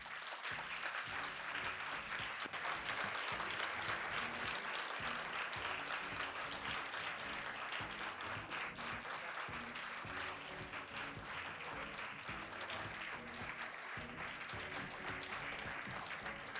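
Sustained applause from a large audience at a literary awards ceremony as nominees come to the stage, dense and even hand clapping that fills the hall without pause.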